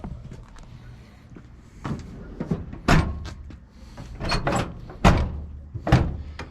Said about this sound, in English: Damn door don't want to shut for nothing.